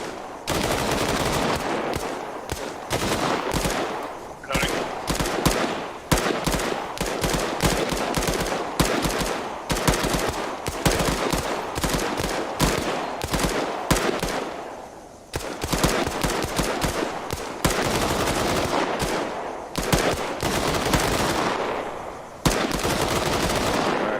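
Sustained machine-gun bursts rattle in the military sim Arma 3, loud and close, with rapid strings of shots broken by brief pauses for about twenty seconds and no voices over the firing.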